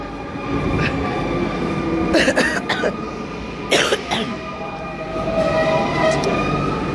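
A metro train arrives at a station, a steady rumbling roar with squealing brake tones, while a nearby person coughs and clears their throat several times over the noise.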